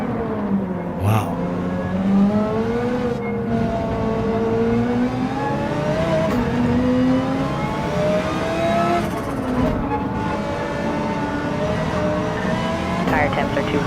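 An Audi R8 Evo GT3 race car in a racing game revs and shifts continuously, its engine pitch climbing and dropping through gears around corners, loud and steady, with someone talking over it.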